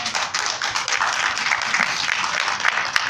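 A church congregation claps their hands together, a steady, moderately loud patter of many hands filling the room with no voices over it.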